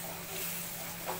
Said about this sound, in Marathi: फक्त हे तेलामध्ये व्यवस्थित परतून घ्या आणि थोडंसं तेल जास्त टाका, म्हणजे व्यवस्थित फ्राय होईल